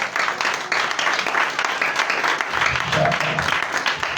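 A church congregation applauding and cheering for the Father, a steady wash of many hands clapping with voices rising underneath, full and sustained throughout.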